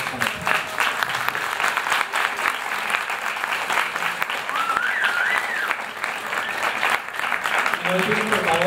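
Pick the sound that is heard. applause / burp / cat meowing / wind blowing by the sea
applause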